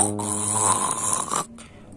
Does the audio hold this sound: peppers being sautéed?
no